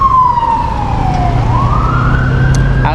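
Ambulance siren wailing along a street in Salmiya, Kuwait, its pitch sliding down, then back up in a long sweep, loud and continuous over steady traffic rumble.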